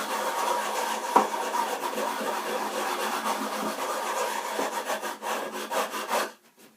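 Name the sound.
sanding guitar neck with sandpaper on plywood block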